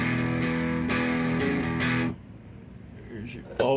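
Electric guitar through a Peavey Ultra 112 amp on its crunch channel, a sustained, gritty chord ringing loudly for about two seconds, then fading to quieter picking and a short final strum.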